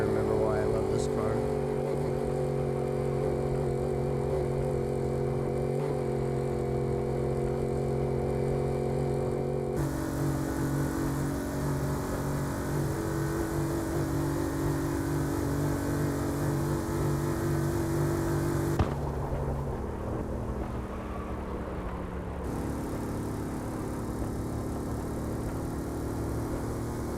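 Camaro built like a NASCAR, its engine droning and revving steadily throughout, loud and close, with a shift in pitch partway through and voices talking over it.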